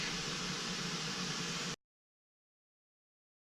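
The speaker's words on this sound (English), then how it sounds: "Pink Noise playing in the background." Pink noise plays in a bedroom as a steady, even hiss that cuts off abruptly, leaving near silence before briefly resuming at the end.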